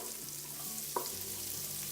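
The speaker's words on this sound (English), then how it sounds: "use the same frying pan for the onion" Gentle, continuous sizzling of onion frying in a pan on medium to low heat, close and fairly quiet, with one brief clink partway through.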